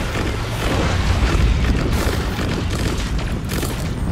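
Missile strikes in the video game Destiny 2 pound together into a continuous rumbling barrage of heavy booms, loud and dense with no clear gaps and almost no speech.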